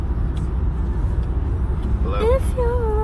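A moving car gives a constant low road-and-engine rumble from inside the cabin, with someone talking throughout.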